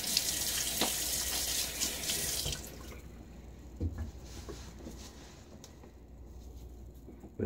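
Tap water runs steadily into a sink as a face is wetted before a shave, a bright hiss for a few seconds that then drops to soft splashes and drips nearby.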